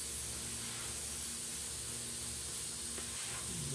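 Spray gun laying umber base coat onto a Jason mask, a steady close hiss running unbroken throughout.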